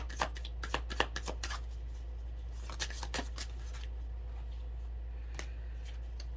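Oracle cards shuffled by hand for a reading, a run of crisp riffling flutters and soft slaps in quick bursts, close and clear over a low steady hum, with no talking.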